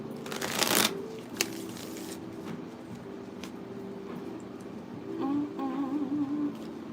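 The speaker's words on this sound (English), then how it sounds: "Shuffling it up a little bit." A deck of tarot cards is shuffled up close: a quick, crisp riffle burst at first, then softer handling and light card rustling in a quiet room.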